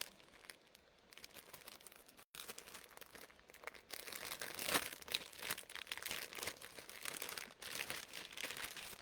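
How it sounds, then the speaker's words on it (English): Quilling cards pulled from their plastic package, close crinkling and crackling of wrapping that grows busier in the second half, with a brief sharp tear-like rustle midway. "You can take your cards out of your package."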